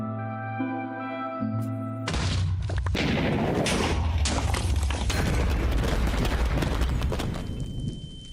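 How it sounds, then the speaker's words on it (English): Explosions go off in a Minecraft game. A held tonal sound gives way to a sudden loud blast, then a dense run of booming detonations that keeps going, with sharp cracks and a rumbling roar that stays loud. "He rushes towards the orange and white rocket, while explosions go off left and right."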